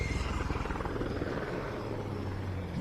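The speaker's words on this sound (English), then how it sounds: "Helicopter flying amongst the wind turbines today." Helicopter flying among wind turbines at a rally stage, its rotor chopping in a fast, steady pulse under broadband wind and engine noise, moderately loud and gradually fading.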